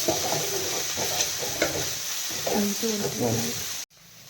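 Curry leaves sizzle loudly in hot oil in a kitchen pan, with steady frying hiss and bursts of scraping stirs, ending abruptly in near silence.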